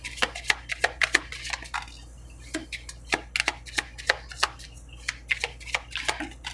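Lenormand cards are shuffled by hand in quick irregular riffles and taps, close and crisp, with no talking.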